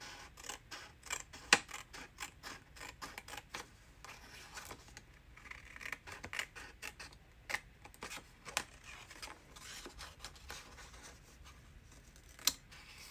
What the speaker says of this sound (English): So this is my gyro cut. I use it for anything that is curved.